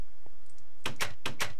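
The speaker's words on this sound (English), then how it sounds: "We'll put some doors down." Doors being placed in a blocky building video game, two pairs of quick dull knocks in quick succession after a near-silent start.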